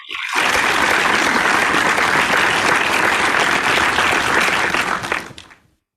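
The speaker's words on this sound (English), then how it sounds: "please give a huge round of applause to Toastmaster Gangadhar." Loud, sustained applause from a large audience at a Toastmasters meeting in Bahrain, steady for about five seconds before quickly dying away.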